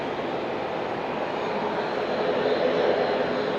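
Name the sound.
airliner takeoff at Auckland International Airport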